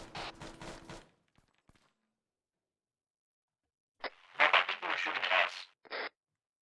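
Bursts of gunfire in the video game Cerberus Company, a rapid volley of shots at the start, then silence, then a longer spell of shooting with radio-like chatter.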